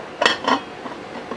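A plate set down on top of a steamed caramel egg pudding, giving a few close ceramic clinks and knocks in quick succession, fairly loud with no talking.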